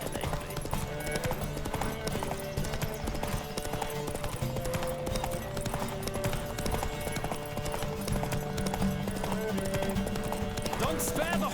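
Hooves of a horse galloping in a race in The Witcher 3: Wild Hunt, a fast continuous clip-clop beating steadily under voices and game music.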